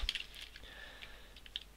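Typing code on a computer keyboard during Unity 3D game scripting, a quick run of light, close clicking keystrokes over a faint steady hum, with no talking.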